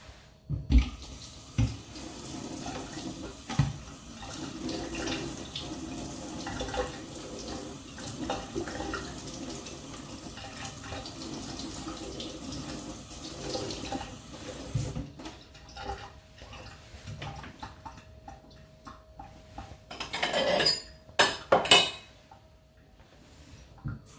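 Tap water runs steadily while a homemade natural soap bar is rinsed under it, a continuous close splashing stream that shifts in tone toward the end with a few knocks and clinks.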